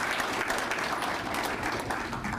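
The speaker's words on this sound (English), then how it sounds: "So can we have a round of applause for Mayor Walsh and his team?" Dense, steady applause fills a hall at the Operation Exit graduation in 2018, a continuous even wash of many hands clapping for Mayor Walsh and his team.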